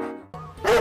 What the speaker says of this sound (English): The Doberman, 99 decibels.